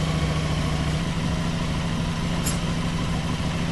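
An Aprilia Tuono 660 motorcycle with poor throttle response and its engine management light on, idling with a steady, even engine hum, close and continuous with no revving or voices.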